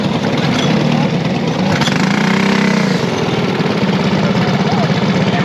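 A go-kart engine buzzes loudly at close range, briefly rising in a gentle rev before settling back to a rough, rattling drone. A person speaks over the noise.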